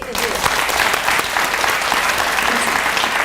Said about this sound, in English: Can we give a big round of applause for Pink Elite?